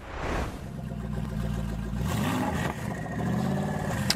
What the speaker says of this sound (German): Gumpert Apollo